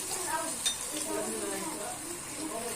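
Sesame-coated taameya, Egyptian falafel, sizzling in hot oil with a steady crackling hiss throughout, and a faint clink near the start.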